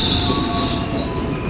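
A KRL commuter train at an Indonesian station near Tanah Abang produces a sustained high metallic wheel squeal over a loud rumbling roll, close and continuous throughout.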